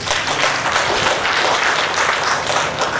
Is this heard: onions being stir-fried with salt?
no